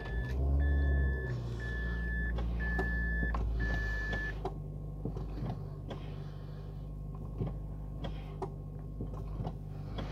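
A 2006 Mazda 3 2.0 being switched on: a series of short, evenly spaced electronic chime beeps rings out over a low steady hum, followed by scattered clicks and a quieter rumble, with no talking.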